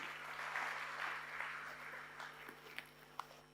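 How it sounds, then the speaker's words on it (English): An audience claps at a product presentation for a noni botanical beverage, a soft, fairly distant patter of applause that thins out toward the end. "let's give a big round of applause to our factory"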